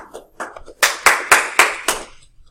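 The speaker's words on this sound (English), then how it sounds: "Thunderous applause." A small class claps in a short, uneven burst, about half a dozen loud separate hand claps rising to a quick rhythm and then stopping, close and with no talk.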